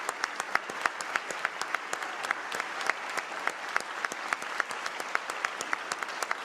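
Audience applause at the Illinois State of the State address, moderately distant clapping with distinct individual claps standing out in a steady, even rhythm throughout.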